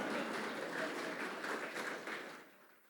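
A church congregation claps for one another in a broad, steady wash of applause that holds for a few seconds and then fades, heard from a distance and fairly quiet.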